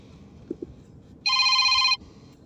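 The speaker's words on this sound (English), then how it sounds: "sorry, my phone rang" A telephone rings once in a short, loud electronic trill lasting under a second, set against a quiet room background with faint low noise.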